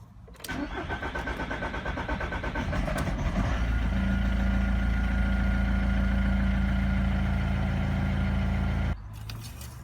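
A VW T4 van engine cranks and catches, then settles into a steady, loud idle with a constant hum before cutting off abruptly near the end.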